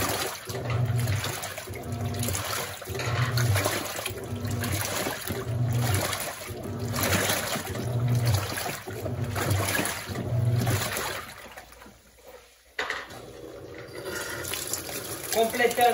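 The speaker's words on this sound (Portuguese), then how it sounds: "Completando o nível de água, é normal." A Panasonic NA-F140B6 washing machine fills with water, the rushing water swelling and ebbing in regular rhythmic surges before a brief lull near the end and a steadier flow afterwards.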